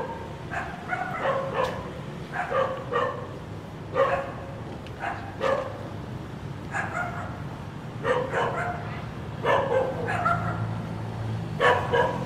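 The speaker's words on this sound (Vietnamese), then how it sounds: "chó sủa" Dogs bark in repeated short bursts at a Saigon pagoda, some yips and whimpers mixed in, moderately near over a faint background hum, with scattered barks across the whole stretch and no talk.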